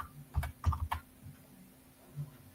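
Several quick keystrokes clatter on a computer keyboard in a short burst, then a pause and one more light tap, close and fairly quiet.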